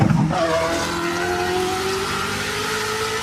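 A car engine roars loudly and steadily with a rising tone and a rough exhaust burble, close and continuous for about three seconds before cutting off abruptly.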